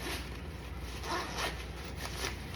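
Faint, quick zipper pulls on the inside pocket of a Nike Mercurial Superfly 10 football boot bag, a few short rasping strokes close by against a quiet background.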